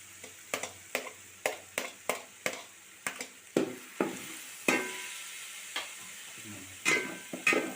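Crushed green chillies sautéed in a pot for mutton biryani, a soft background sizzle punctuated by about a dozen sharp spoon scrapes and knocks against the pan, coming in a quick irregular rhythm.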